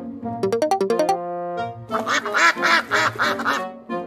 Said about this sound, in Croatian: Patka.